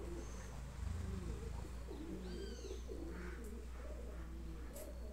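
A large bronze-colored pigeon cooing close by, with several soft, low repeated coos and a few brief higher bird chirps over a steady background hum.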